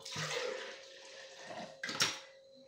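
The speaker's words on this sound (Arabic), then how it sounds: "دابا غنزيدو فيه الماء يطلق كامل" Water is poured into homemade lemon and apple juice, a soft, faint splashing pour that fades and then gives a brief louder slosh near the end, with no talking.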